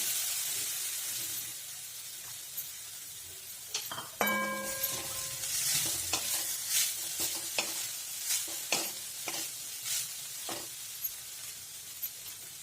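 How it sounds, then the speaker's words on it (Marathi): Grated coconut fries in a spoonful of ghee and is stirred, producing a steady sizzling hiss broken by repeated sharp utensil scrapes and one ringing clink, close by and without talk. "हे 1 चमचा साजूक तूप आहे. आता त्यात नारळ टाकून घेऊ."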